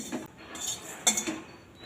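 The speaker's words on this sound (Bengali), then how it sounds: "হাফ চামচ জোয়ান আর কালো জিরেটা একসঙ্গে নেড়ে নেবো শুকনো করাতে" A spoon stirs carom and black cumin seeds dry-roasting in a pan, making light scraping and a few metallic clinks in short bursts, alone and close up.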